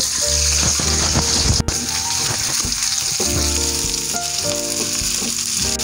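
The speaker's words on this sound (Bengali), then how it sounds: "এবার এই গরম তেলে গ্রেভি বানানোর জন্য 4টে বড় সাইজের পেঁয়াজ কুচি করে দিয়ে" Chopped onions fry in hot mustard oil for a curry gravy, a loud, close, continuous sizzle with one sharp clatter early on and a bubbling crackle throughout.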